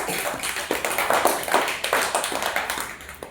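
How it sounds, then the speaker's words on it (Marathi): A school class claps together, a brisk scattered patter of many hands lasting a few seconds, with no one speaking. "टाळ्या वाजवा"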